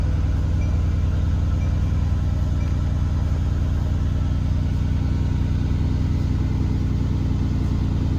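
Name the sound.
2016 Mercedes-AMG GT S engine started and idling cold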